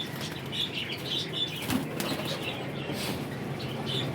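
Pigeons flap their wings in repeated soft, fluttering bursts, close and moderately loud, with occasional faint bird calls in the background and no talking.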